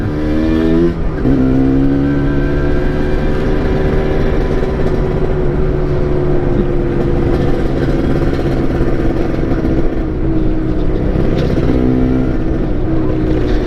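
A Yamaha RX-Z motorcycle fitted with a swapped Kawasaki Ninja RR two-stroke engine revs steadily and loudly up close, its engine note rising and falling through several throttle blips over a continuous idle drone.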